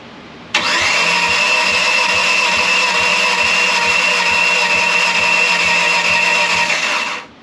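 A 4G63 engine in a DSM drag race car cranks steadily on the starter during a compression test with one cylinder reading low, a loud, even, rapid pulsing that runs for about seven seconds and then stops, with no talking.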